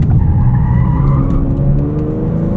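A 2024 Genesis G70 AWD 3.3T Sport Prestige accelerates in second gear in manual mode, its engine note loud and steady, climbing in pitch from the cabin with no speech.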